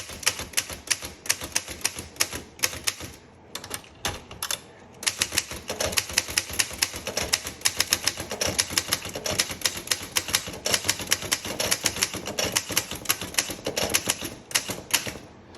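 Steady typing on a 1938 Groma Standard typewriter with glass keys gives rapid, crisp mechanical clacks in uneven bursts, close and clear, with short pauses and no speech.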